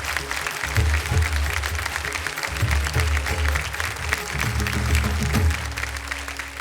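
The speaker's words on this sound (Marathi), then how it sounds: "जोरदार टाळ्या झाल्या पाहिजे त्यांच्यासाठी" Audience applause for kirtan performers called onto the stage, a dense, steady wash of clapping filling the hall for several seconds, with faint voices and background hum underneath.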